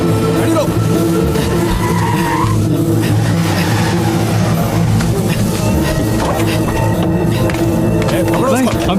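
Car engine in an action movie scene revs hard and loud with tire squeals and skidding, a busy, continuous roar of vehicles under shouting voices.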